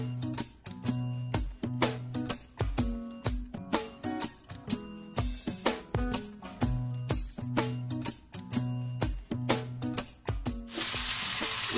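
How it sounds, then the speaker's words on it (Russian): Zucchini and other vegetables stir-fry in a wok over high heat for a chicken and vegetable dish, with rapid rhythmic clacking of a utensil against the pan over a steady sizzle that swells louder near the end. "Все это добавляем и на сильном огне быстро обжариваем"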